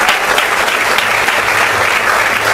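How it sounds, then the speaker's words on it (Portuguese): A church congregation applauds, a dense burst of many hands clapping at once, loud and close and steady for a couple of seconds with no pause. "Pode aplaudir Jesus."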